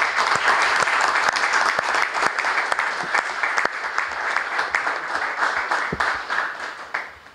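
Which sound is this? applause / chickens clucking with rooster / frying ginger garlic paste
applause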